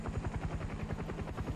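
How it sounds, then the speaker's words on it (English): A drone hovers in a first-person shooter video game, giving a steady pulsing rotor drone that stays loud and close throughout without a break. "Is my drone still up?"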